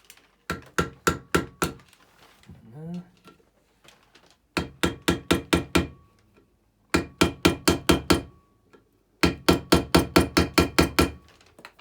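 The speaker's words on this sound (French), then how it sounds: "Toujours un petit coup de marteau, sinon c'est pas drôle." A hammer strikes repeatedly while an air suspension bag is fitted onto a threaded coilover, delivering sharp, loud blows in fast bursts of six to nine with brief pauses, and someone speaks briefly between them.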